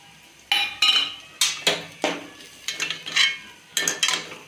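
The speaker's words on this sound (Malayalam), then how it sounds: "മസാലയുടെയൊക്കെ പച്ചമണം പോകുന്നവരെ ഒന്ന് വഴറ്റി കൊടുക്കാം" A spoon scrapes and knocks against a pan while spice masala is stirred for egg biryani, giving repeated sharp metallic clanks in an irregular rhythm, close and fairly loud, with no talk.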